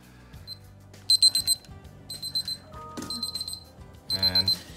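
Short bursts of high electronic beeping from a ThermoPro TP-16 digital food thermometer repeat in quick groups, with people talking underneath and between the beeps.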